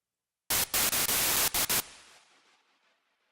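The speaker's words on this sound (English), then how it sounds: "you've obviously got your noise oscillator" A DiscoDSP OB-Xd synthesizer plugin's noise oscillator spits a rapid series of loud, hissing white-noise bursts, stuttering on and off, then fading into a soft decaying static tail.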